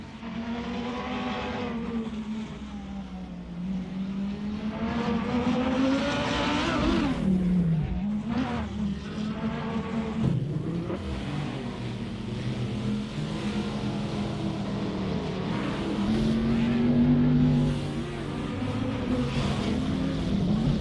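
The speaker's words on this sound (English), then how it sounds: "Packend is second driving a Lamborghini." Race car engines, including a Lamborghini, in an AI-driven racing video game. They roar continuously and loudly for the whole stretch, with rising and falling revs and gear shifts sweeping through the sound.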